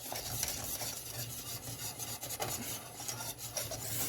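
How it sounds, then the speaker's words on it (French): Salted butter being stirred into caramel for a bûche, heard as a quiet, continuous rasping and rubbing of a utensil against the pan, close and soft with an uneven rhythm and no talk. "on continue à mélanger le beurre et avec le reste, le beurre salé avec le reste"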